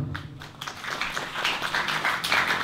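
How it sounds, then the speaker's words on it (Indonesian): Applause at a vocational high school farewell ceremony in Tana Toraja, a moderate patter of clapping that swells and continues unevenly, slightly distant, without talk. "Iya, tepuk tangan dulu"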